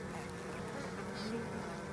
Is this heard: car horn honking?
no